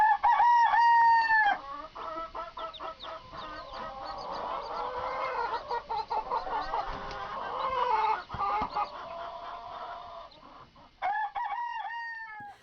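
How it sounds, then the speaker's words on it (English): A rooster crows loudly at the start, other birds cluck and honk through the middle, and a second crow rings out near the end. "because I actually hear a real rooster crowing"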